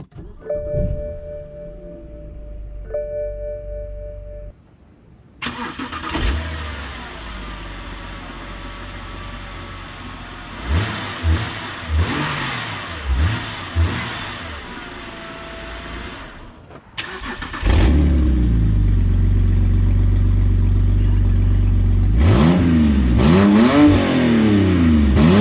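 A BMW engine with an open downpipe exhaust starts and revs repeatedly, rough and loud, building to a sustained roaring drone with sharp throttle blips near the end.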